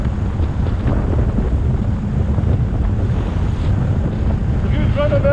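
Strong wind blowing outdoors in Scotland at Glendevin, buffeting the microphone in a constant, loud, low roar that rushes steadily throughout, with a faint brief voice near the end.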